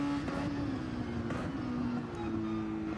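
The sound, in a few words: race car engine in a sim racing video game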